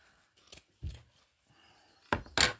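Scissors cutting fabric pieces for a tote bag, a few close, crisp snips spaced out with quiet gaps, ending in two louder cuts.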